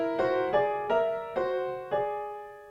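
A piano sounds a tense, dissonant two-note interval, struck five times at a steady pace, each ringing briefly before the next.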